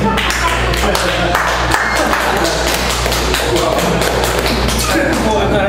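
Steady, dense clapping from an audience at a poetry reading for the 100,000 Poets of Change event, continuing evenly for several seconds over a low hum, with some voices mixed in.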